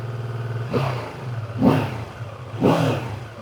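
A 2026 BMW F 450 GS Adventure motorcycle engine revs hard three times in a row, each surge of deep, throaty roar rising and falling back, heard up close.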